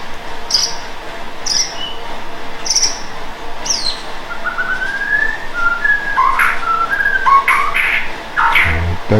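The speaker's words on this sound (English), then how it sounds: "Azra has birds, and sometimes they're quite vocal" A pet bird whistles and sings in short bright phrases, starting with spaced repeated whistles and moving into a more varied warbling run, close and clear over a quiet background hum.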